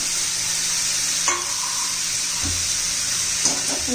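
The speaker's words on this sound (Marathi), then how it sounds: "आता आपण किसलेला भोपळा घालून घ्यायचा." Grated bottle gourd frying with cumin and curry leaves in a pan, stirred: a continuous bright sizzle throughout, with a few soft spatula knocks and scrapes.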